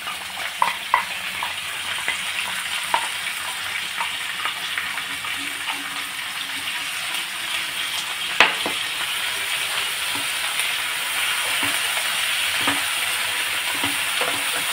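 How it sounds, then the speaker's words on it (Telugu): Biryani masala fries with fresh coriander and mint in a pan, a continuous close sizzle broken by scattered scraping stirs and sharp clicks, one louder knock near the middle, and no speech. "బాగా ఫ్రై అవ్వాలి. కొత్తిమీర, పుదీనా వేసుకోవాలి."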